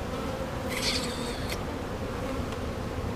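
Honeybees drone continuously on a beehive frame during a hive inspection, a dense, steady buzz close to the ear with no speech.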